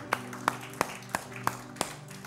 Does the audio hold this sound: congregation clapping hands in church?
yes